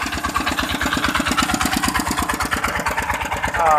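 Several engine-driven water pumps drain a flooded rice field. They chug steadily and loudly up close in a fast, even rhythm.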